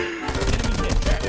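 Rapid automatic gunfire in the mobile battle royale game Farlight 84, loud and close, starting abruptly and rattling on continuously with dense, rough bursts.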